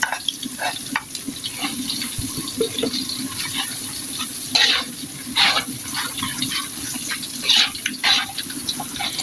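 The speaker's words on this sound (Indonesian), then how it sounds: "Ini lagi goreng bawang merah, bawang putih ya." Shallots and garlic frying in hot oil give off a continuous close sizzle, and sharper bursts of crackle rise now and then as the pan is stirred.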